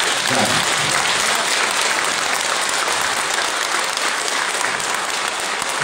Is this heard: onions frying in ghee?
no